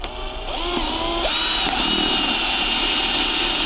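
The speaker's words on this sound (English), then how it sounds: "up underneath the grab handle there where we'll be drilling our hole." A power drill bores a hole into a battery box beneath a grab handle during a small aluminium boat build, spinning up after a brief start and holding a loud, steady whine to the end.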